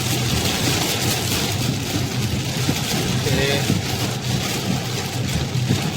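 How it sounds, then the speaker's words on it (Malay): Heavy storm rain pounds a car while it drives on a Malaysian road toward Bandar Jengka, making a constant loud roar with road noise underneath. A voice says a single brief word. "hujan lebat eh, gerakan agak perlahan hujan ribut"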